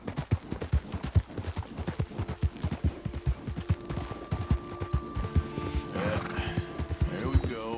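A horse gallops at speed in Red Dead Redemption 2, steady clip-clop hoofbeats close and loud, then a whinny rises near the end over continuing hooves.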